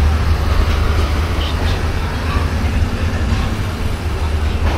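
The Joyantika Express rumbles along from inside a carriage, a loud, continuous low roar with steady rattling and no break for the whole stretch.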